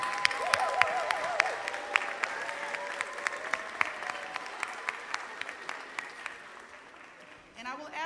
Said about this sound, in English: I want you all to stand up so your graduates can give you a round of applause